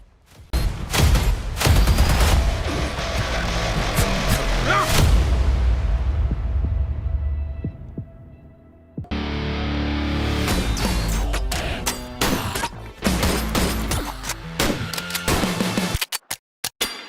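Brutal melee and gunfire combat from an indie action video game featuring chunky firearms, with dense bursts of loud impacts and shots, a fading tail and a sudden cut into another intense stretch of rapid hits.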